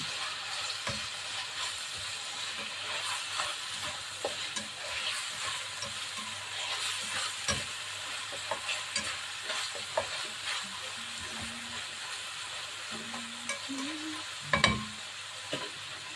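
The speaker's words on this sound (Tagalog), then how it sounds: "Halo natin yung hotdog. Ito ay chicken hotdog." Chicken hotdog pieces are stirred in a frying pan for a creamy penne pasta sauce, with a constant soft sizzle under scattered utensil scrapes and clicks close by, and a sharper clatter near the end.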